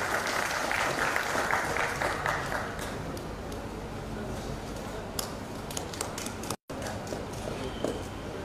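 Audience applause welcoming a guest at a Lawyer's Day law celebration in a hall, a broad steady clatter of many hands that thins out after a few seconds into scattered claps, with a brief dropout near the end.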